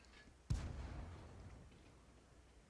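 A tank cannon fires once in World of Tanks gameplay of the T67 tank destroyer, a single sharp boom followed by a long low rumbling decay, no talk over it.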